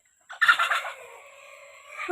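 A chicken gives a drawn-out, wavering cluck-like call up close, tapering off, then another call starts at the end.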